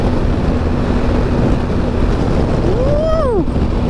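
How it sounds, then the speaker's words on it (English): Strong wind buffets the microphone as a continuous, loud roar throughout a ride on a DR650 motorcycle, with a brief rising-and-falling engine whine near the end. "I love this wind. That's pretty strong."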